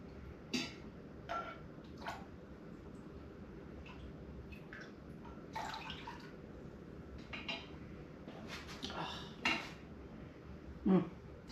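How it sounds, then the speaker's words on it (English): A ladle scoops hot apple cider in a quiet kitchen, making faint, scattered metallic clinks and light scrapes against the pot over a low background hum. "Let's find a ladle to get us some cider and cut us a piece of cake"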